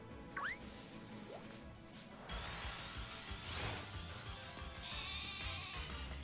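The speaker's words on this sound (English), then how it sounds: "I hear sheep." Sheep bleating briefly near the start over a steady backdrop in Pokémon Sword and Shield, followed by a whoosh and other effects.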